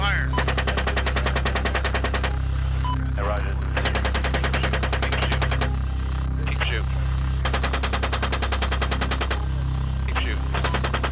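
Sustained bursts of heavy automatic gunfire in recorded attack footage, rapid rhythmic volleys repeating over a loud continuous engine drone, with pauses between strings of shots and radio voices talking underneath.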